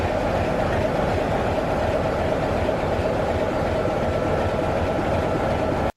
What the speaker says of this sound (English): At the head of our first train of the day, we've got a Class 33, 33202 Dennis G. Robinson.